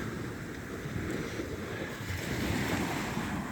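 Surf breaks on a rocky coastal shore along the Welsh coast path between Gilfach and New Quay, a steady broadband roar with wind buffeting the microphone, no voices.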